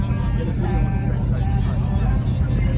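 A lifted aluminum-bodied Super Duty truck on a custom 12-inch lift kit doing burnouts at a car meet gives a steady, loud roar of engine and spinning tires, with a crowd talking over it throughout.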